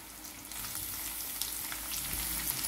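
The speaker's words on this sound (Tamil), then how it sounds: "பூண்டு வதங்கினதும் நீல வாக்குல கட் பண்ண பெரிய வெங்காயம் ஒன்று சேர்த்திடுறேன்" Sliced large onions frying with garlic over high flame, a dense, even sizzle close by that grows slightly louder, no voices.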